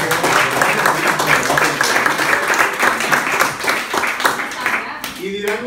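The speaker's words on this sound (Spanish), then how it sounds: "Aplauso para los de atrás, por favor." An audience at a voice, singing and breathing workshop breaks into sustained applause, dense rapid clapping that holds steady for several seconds before thinning out near the end.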